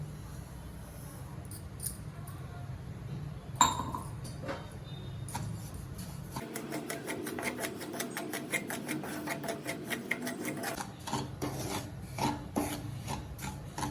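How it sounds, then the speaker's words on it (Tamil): Semolina (rava) is poured into a hot kadai and roasted, giving a dry, gritty scraping rustle. Faint scattered sounds come first, then rapid rhythmic stirring strokes continue close by, with no talking. "இப்போ ரவையை கொட்டிடுவோம்"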